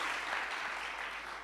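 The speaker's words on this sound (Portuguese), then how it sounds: "Em nome de Jesus, uma salva de palmas e pode sentar." A church congregation claps together at a Sunday service, a dense, steady wash of applause heard fairly quietly and holding evenly before tapering slightly at the end.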